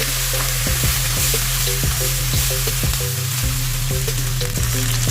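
Chicken for a casserole sizzles loudly and steadily in a hot pan, frying with a dense continuous hiss and occasional stirring clatter.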